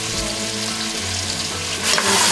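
Saffron and turmeric fry in a pot over high heat, a steady loud sizzle with stirring scrapes and a brief surge of hiss near the end.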